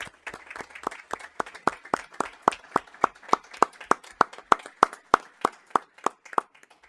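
Steady rhythmic hand clapping at a school board meeting, a few crisp claps per second repeating evenly for several seconds with no talking.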